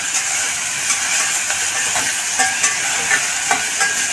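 Chopped onion sautés in oil in a pan for Khandeshi masala khichdi, giving a steady bright sizzle with intermittent scraping stirs of a spoon, close and continuous, with no talk.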